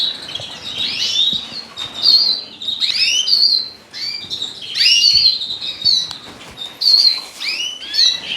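Native siskins and redpolls chirp in an indoor bird room, bright twittering calls coming in quick repeated bursts, close and fairly loud, with no talking.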